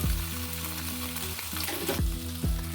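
Chicken balls and chopped garlic fry in a hot pan, a steady close sizzle with a few louder bursts and scrapes near the end, no talking.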